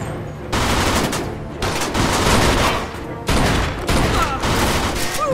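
Rapid automatic gunfire from a Mafia 2 shootout, dense bursts of shots ringing out almost continuously across the clip, loud and close, broken by a couple of short pauses.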